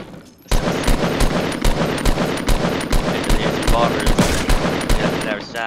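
Sustained automatic gunfire in Fortnite, loud and close, a steady stream of rapid shots with periodic heavier bangs, continuing for several seconds.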